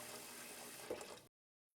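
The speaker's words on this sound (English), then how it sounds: "Then we're adding water to the pot, filling it like 3/4 of the way full of whatever pot you're using." Tap water runs steadily into a cooking pot for pozole, a broadband rushing pour lasting about a second before cutting off abruptly into silence.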